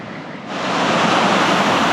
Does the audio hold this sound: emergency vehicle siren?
no